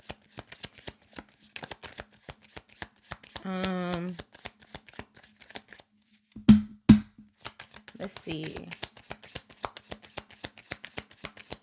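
A deck of cards being shuffled up close, a long run of rapid, crisp riffling clicks with brief pauses between shuffles and a short spoken remark partway through.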